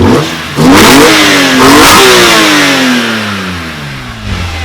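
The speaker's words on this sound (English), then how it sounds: "I've never heard an intake that loud before" A tuned BMW M3 engine blips and revs hard several times, its very loud intake roar climbing and falling, then settling back down.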